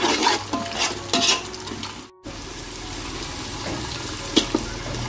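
A curry masala is stirred steadily in a pan after yogurt goes in, with close scraping strokes over a constant bubbling sizzle and a couple of sharp utensil knocks near the end.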